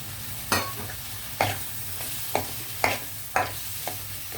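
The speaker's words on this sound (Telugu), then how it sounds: "ఇందులో వేగేటప్పుడే మనం ఈ పచ్చిమిర్చి, కరివేపాకు, కొత్తిమీర ఇవన్నీ వేసేద్దామండి" Green chillies, curry leaves, coriander and raw banana pieces fry in a pan for a fish curry, with a soft sizzle under about six regular stirring scrapes, close and alone.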